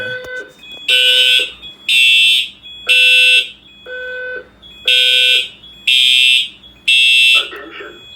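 A Simplex 4003 EC fire alarm panel sounds loud, close tonal horn blasts in a regular on-off pattern, about seven bursts with short gaps, a recorded voice message starting at the end.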